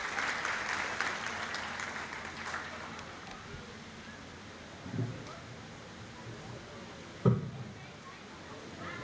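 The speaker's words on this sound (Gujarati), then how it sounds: "જોરદાર તાળીઓથી વધાવીએ" A crowd applauds at an LIC officers' function, the clapping dense and broad over the first few seconds before thinning into a quieter hum of room noise, with a couple of soft thumps later.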